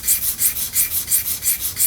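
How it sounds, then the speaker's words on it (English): A 1911 pistol trigger shoe rubbed back and forth on sandpaper laid over a flat granite block, a steady rhythm of about eight gritty strokes, close and alone with no voices. "I'm just going to run the shoe over it, try to get me a nice flat sand on this granite."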